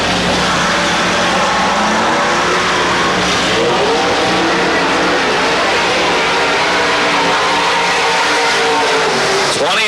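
A dirt-track race car on a qualifying lap at Pennsboro Speedway, engine roaring loud and continuous close by, with tire noise and a voice announcing over it.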